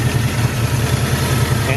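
A 1968 Ford Mustang fastback with a 289 V8 idles just after starting, a loud, close, steady low rumble with a regular lopey pulse running throughout.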